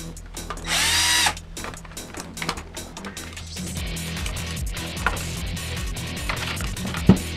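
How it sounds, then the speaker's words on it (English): A power tool whirs in a short loud burst while unbolting the transmission of an Axial Wraith RC car, followed by ratcheting mechanical clicks and handling noises on a workbench, with a sharp knock near the end. "We're going to go ahead and unbolt the transmission here and see if we can't get this bad boy out of here."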